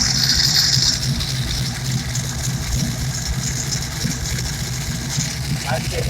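An engine idles steadily after an AODE transmission swap, with a slight flywheel noise mixed into the continuous, fairly loud, even drone from start to finish.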